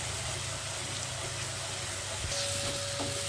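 Spice paste frying in oil in a wok for Bengali shoul fish kalia, a steady close hiss and crackle that runs without a break, with a faint thin tone entering near the end.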